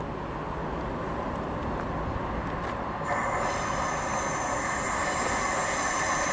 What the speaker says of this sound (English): arriving now is the 1529 Arriva Trains Wales service from Merthyr Tydfil to Barry Island. It's formed of a 150